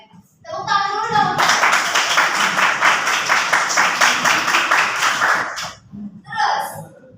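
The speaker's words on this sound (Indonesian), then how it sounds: "Tepuk tangan dulu dong." A classroom group of students claps together during a teamwork lesson, a loud sustained burst of many hands lasting several seconds, framed by brief talking before and after.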